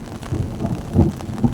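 Thunder rumbles low and heavy through a steady downpour of first-of-season monsoon rain over fields in Dadodiya village, with swelling bursts of booming roll standing out from the dense rain hiss.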